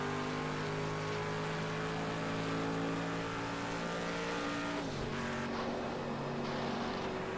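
Race car engine in a video game from a bumper cam view, a loud, steady high-pitched drone that holds constant, then dips sharply near five seconds as the car brakes or shifts, and settles into a rougher tone.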